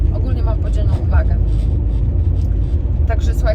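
A car drives along a road with a steady low engine and road rumble filling the cabin, loud and continuous, while someone talks over it throughout.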